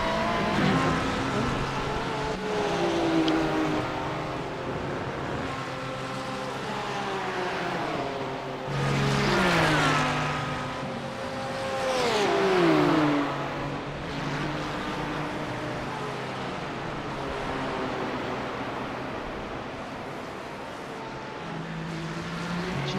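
Several race cars, including a BMW, roar past on the Road Atlanta circuit in a racing video game, with loud, continuous engine whine and pitch sweeps as cars pass close around the midpoint.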